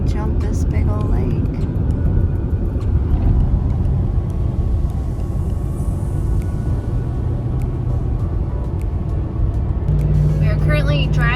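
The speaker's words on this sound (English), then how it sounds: "Currently driving in British Columbia in this avalanche tunnel." A car drives through an avalanche tunnel in British Columbia, its steady road rumble and engine drone filling the space throughout, with a voice talking over it.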